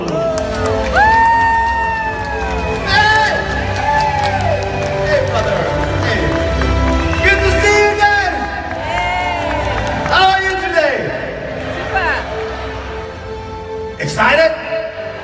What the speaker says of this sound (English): I would like to give a warm applause for Mr. Corey Valros